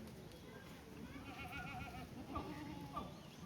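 Rajasthani Marwari goats, a delivered batch of thirty, bleat a few times amid a busy outdoor livestock scene, with people talking and other animal noise in the background.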